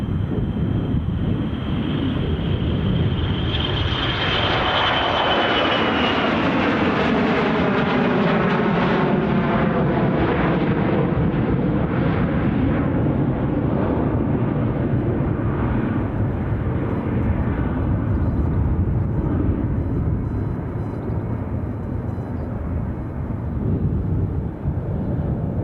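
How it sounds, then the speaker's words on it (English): A jet airliner roars down the runway on its takeoff roll at Edinburgh Airport. The loud, steady rumble swells and sweeps in pitch as it passes close by, then fades slowly into a long, distant drone, with wind buffeting throughout. "I think that one is the earliest takeoff we've seen today"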